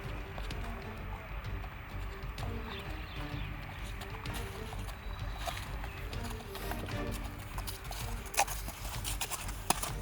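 Horse hooves clip-clopping steadily as a rider heads to a hippodrome for kok boru training in Kyrgyzstan, a continuous rhythmic patter under outdoor ambience with a couple of sharper hoof knocks near the end.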